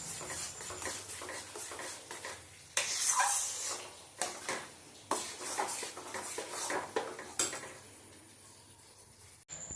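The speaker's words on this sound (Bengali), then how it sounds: "এখন এটাকে সমানে নেড়ে ঘিটা এই যে ছোলার ডালের যে পেস্টটা সেটার মধ্যে মিশিয়ে ফেলতে হবে।" Chana dal paste stirred with ghee in a pan, a steady run of soft scraping and spoon strokes against the metal with occasional louder knocks, close and continuous with no talk.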